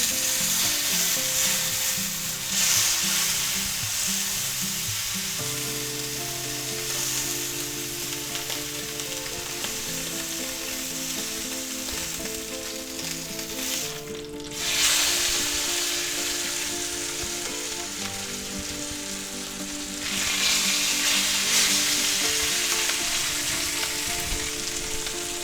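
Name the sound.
pork chops searing in a pan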